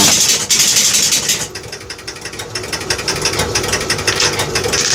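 A Gottlieb pinball machine powers up with its motor spinning, a loud, close, continuous mechanical whirring and rattling with fast repetitive clicks of relays and switches sustained throughout.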